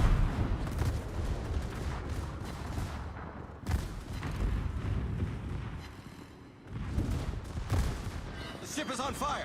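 Rapid naval secondary gun batteries fire from a warship in World of Warships, heavy booming blasts rolling one into the next with near-constant rumble and a few sharper hits, while a voice talks underneath.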